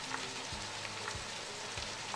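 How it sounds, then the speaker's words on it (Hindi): Ground spices such as black pepper, garam masala, salt, cumin and dry coriander frying in a pan for a chicken and capsicum curry, giving a soft, steady sizzle with a few low thumps of stirring. "हम इसको अच्छे से फ्राई करेंगे।"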